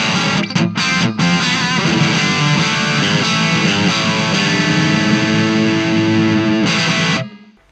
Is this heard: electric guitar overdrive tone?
yes